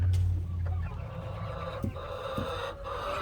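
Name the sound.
chickens, hens and roosters clucking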